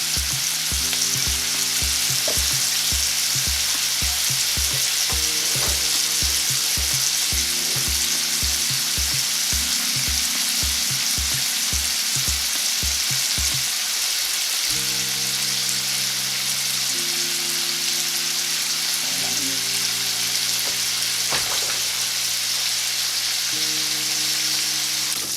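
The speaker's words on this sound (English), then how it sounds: "Nice sizzle there." Food fries and sizzles steadily in hot oil for breakfast, a continuous crackling hiss close by, with no voices over it.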